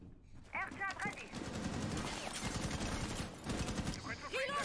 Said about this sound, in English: great gunfight going on in Gold Stairs